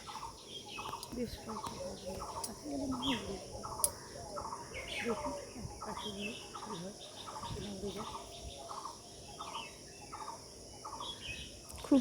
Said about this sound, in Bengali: খুব সুন্দর পাখিগুলি ডাকছে।